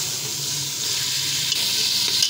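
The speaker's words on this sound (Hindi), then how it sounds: "अब हम इसके अंदर पानी शामिल करेंगे तकरीबन 2 गिलास के बराबर।" Water, about two glasses' worth, is poured into a hot pan of fried black chickpeas in ghee, giving a steady loud hiss and sizzle throughout with no voices.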